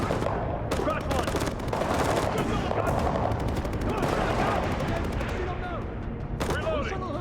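Gunfire in a Ghost Recon video game demo at the Ubisoft E3 2011 press conference, dense rapid bursts of automatic fire rattling continuously and loudly, with shouted in-game voices mixed in.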